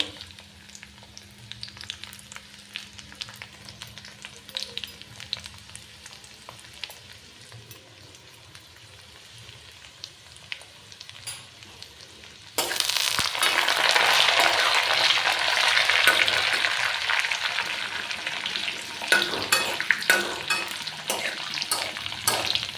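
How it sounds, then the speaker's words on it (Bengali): Dry fruits lightly frying in a pan for semolina halwa, a soft, quiet sizzle with stirring scrapes, then a sudden loud, dense hiss as more ingredients go in, continuing steadily to the end. "এগুলো কিন্তু বেশি ভাজবো না খুব হালকা ভাজবো"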